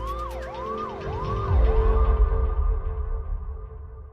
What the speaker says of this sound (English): All she could do was watch as the ambulance sped away with her son.